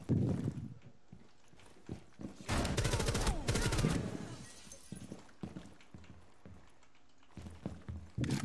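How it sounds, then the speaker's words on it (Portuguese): Video game gunfire in a first-person shooter, with one loud, sharp burst of rapid shots in the middle and a shorter burst near the end, separated by quieter footsteps and scuffling. "Eu dei duas rajadas de 5 tiros e controlei direitinho"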